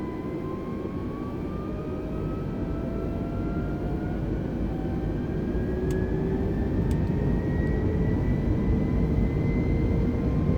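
Simulated Airbus A320 (FlyByWire A32NX) jet engines in Microsoft Flight Simulator spool up for takeoff on the runway, a steady loud roar with rising whine tones that swell gradually, alone without talk.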